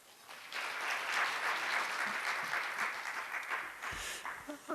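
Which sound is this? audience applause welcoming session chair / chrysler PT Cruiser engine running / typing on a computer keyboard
audience applause welcoming session chair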